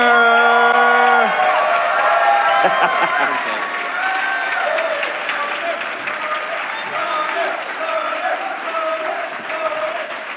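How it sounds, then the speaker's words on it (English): Debate audience applauding for Alex O'Connor, loud sustained clapping with some cheering, while music plays beneath the opening seconds. "warm round of applause for Alex O'Connor"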